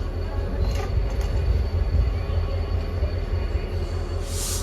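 A train pulls in at Vartej, the last stop before Bhavnagar, with a steady low rolling rumble and faint rail noise that holds evenly throughout.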